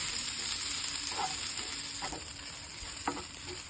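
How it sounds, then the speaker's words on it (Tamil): Grated coconut roasting in ghee crackles with a steady close sizzle, with a few soft taps of a stirring spoon. "இந்த நெய்யிலேயே வந்து நான் இந்த 3 பழத்துக்கு தேவையான அளவு தேங்காய் வந்து ஒரு அரை மூடி திருகி வச்சிருக்கேன். அது போட்டு போறேன். போட்டு நல்லா ரோஸ்ட் பண்ணிட போறேன்."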